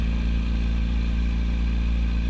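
Yamaha YZF-R1 sport bike engine running steadily on a flight strip, a continuous close, even mechanical drone with a low rumbling hum throughout and no voices.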